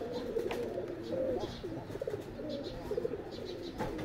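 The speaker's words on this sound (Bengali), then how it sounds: "এই যেগুলা তো কবুতর আর ঢুকে গেছে" Pigeons coo softly in a new cage at a village home, a steady, overlapping murmur of low throaty calls lasting throughout, with a few faint chirps above.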